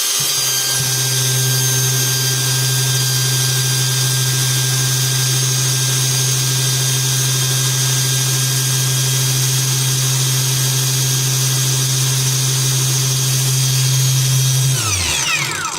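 PATUOPRO angle grinder running free at speed setting nine, a loud steady high-pitched motor whine held for about fourteen seconds, then spinning down quickly at the end.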